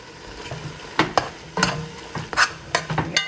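Ground beef and ground turkey browning with onions for chili, a close sizzle broken by several sharp scrapes and knocks of a spoon stirring the meat in the pot.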